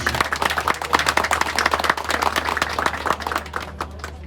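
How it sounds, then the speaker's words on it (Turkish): Applause at an award ceremony for a cherry-growing contest in Alaşehir, with distinct sharp claps from a modest crowd forming a lively, uneven patter that thins out toward the end. "Kendisi burada mı alkışlayalım?"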